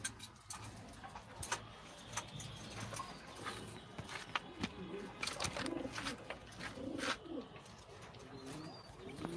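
Racing pigeons coo softly at a distance amid light clicks and rustles, and someone talks quietly in the background.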